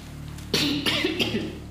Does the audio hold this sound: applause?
no